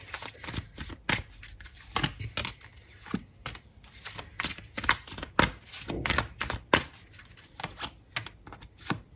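Tarot cards are shuffled close up in quick irregular bursts of riffling and slapping, with sharp flicks spread across the stretch and no voices.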